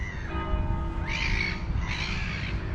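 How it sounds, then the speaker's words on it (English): Outdoor birds in the city of Worcester give two harsh, squawking calls over steady background noise, moderately near and clear, with a faint hum underneath. "and the birds are chirping."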